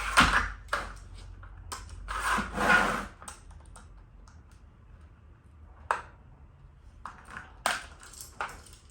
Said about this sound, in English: I'll just try to cut it straight across.